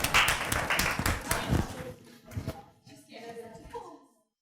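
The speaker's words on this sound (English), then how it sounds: "Everyone give her a round of applause." Applause from a high school workshop audience, dense clapping for about two seconds that thins out and fades, with some talk and scattered claps continuing underneath before it trails off.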